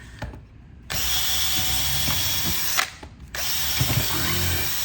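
A power drill bores through a carbon fiber goalie hockey stick blade, a loud sustained whine running in two long bursts separated by a brief pause, with ratcheting mechanical chatter and no talk.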